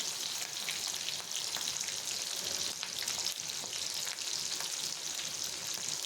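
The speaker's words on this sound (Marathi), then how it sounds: "आणि आता बारीक चिरलेली मिरची टाकूयात छान परतून घ्यायचे" Finely chopped green chillies sauté in hot oil with a dense, even crackling sizzle that runs continuously at close range, with faint stirring and no voices.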